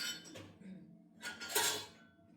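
Small latte glasses for a coffee machine clink and rattle quietly against each other while being rummaged for, in two or three brief clattering bursts.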